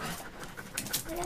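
A German dog pants softly with quick, rhythmic breaths at close range, over faint background voices.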